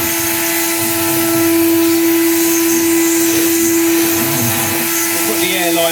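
A roughly 30-year-old Henry vacuum cleaner sucks hard with a steady, loud whine holding one strong tone, with rustling and clattering debris pulled through the hose, a voice faint beneath it.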